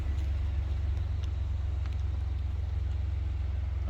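A car is driven along a dark road at night, its steady low engine and road rumble running continuously without letup or nearby voices.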